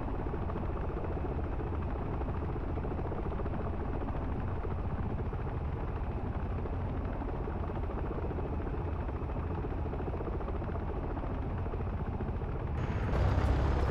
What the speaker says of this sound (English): And the V-22 Osprey.